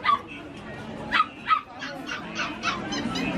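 A white puppy at a pet dog market in Hai Phong, Vietnam, gives a string of short, high yips and whimpering barks at close range, with voices talking nearby.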